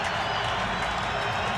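A sold-out hockey crowd at Calgary's Saddledome roars after a Flames goal in Game 7 of the 1995 playoff series against San Jose: a continuous, loud wash of cheering and clapping.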